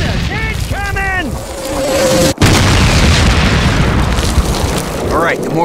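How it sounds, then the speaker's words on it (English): Mortar explosions from the Call of Duty battle at Ste Mère Église, France: a loud, sustained rumbling blast fills the scene with heavy low roar, while harmonic voices shout briefly near the start and again at the end. "Mortars incoming!"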